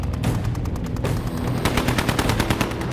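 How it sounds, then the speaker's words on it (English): Machine guns of diving German Focke-Wulf 190 fighters fire in loud, continuous rapid bursts, a dense rattling barrage that fills the whole stretch with no voices. "German Focke-Wulf 190 fighters descend on them, machine guns blazing."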